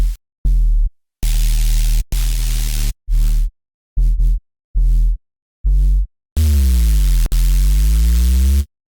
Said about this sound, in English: these are those really nice kind of like white noise subs